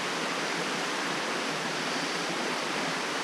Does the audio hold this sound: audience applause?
no